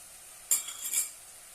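Spoon scrapes through spiced potato curry frying in a pan with garam masala, one brief clinking stir stroke with a faint sizzle behind it and no voices.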